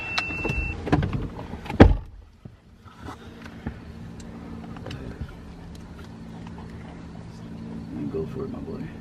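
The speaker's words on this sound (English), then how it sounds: "Go ahead, roll the windows down." Power windows on a 2018 Hyundai Elantra Sport with a catless downpipe roll down, a steady motor whir running for several seconds inside the car after a sharp thump, with people talking over it.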